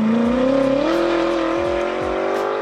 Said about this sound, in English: It was one of the most beautiful exhaust notes I've ever heard in person.